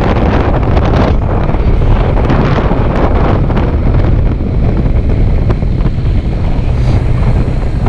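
Steady, loud wind buffeting the microphone in constant roaring gusts, with no voices, suggesting fast movement through open air on a ride to Dingalan, Philippines.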